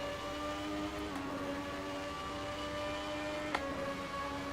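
Car engine in the Assetto Corsa racing sim, a low, steady drone with a hollow, tunnel-like echo, fairly quiet, with one sharp brief click near the end and no voices.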